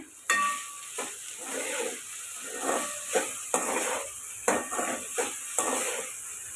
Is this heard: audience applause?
no